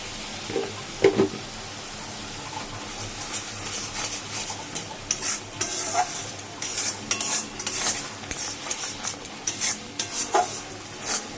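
Lote fish is stir-fried with spices and turmeric in a pan, with repeated scraping and clinking of a spatula against metal over a low background sizzle, the stirring strokes coming in an irregular rhythm.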